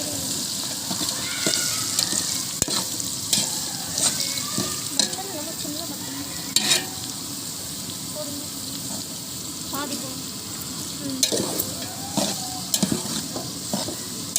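Onions sautéing and sizzling in a large pot of oil for a big-batch vegetable biryani, a steady crackling fry broken by the scrape and clatter of stirring, close and fairly loud.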